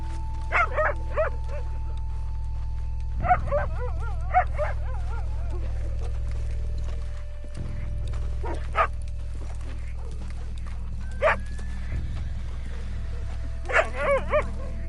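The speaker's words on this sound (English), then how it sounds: "It's just a dog." Several short barks and yips from a dog in the Red Dead Redemption 2 video game, spread across the scene in separate bursts over a steady low in-game background hum, with brief talk mixed in.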